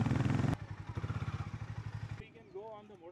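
A Harley-Davidson X440 motorcycle engine chugs steadily at low speed on a winding road, its rhythmic pulsing close by, then fades as a voice speaks briefly over it.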